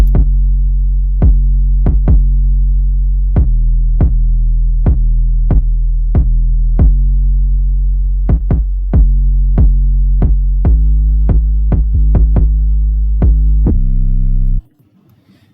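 Booming sub-heavy 808 bass notes with sharp kick-like attacks in a bouncy, syncopated pattern, loud and close, ending abruptly near the end.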